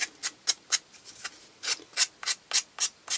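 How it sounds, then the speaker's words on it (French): A nail file rubs the edge of a cardboard toilet paper roll in a quick, rhythmic series of about a dozen short, raspy strokes, close up and alone. "je vais prendre une lime à ongles et je vais faire comme ça"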